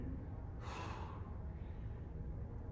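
A single big inhale during an arm raise exercise, a brief, airy breath drawn in close by and fading quickly over a faint steady background.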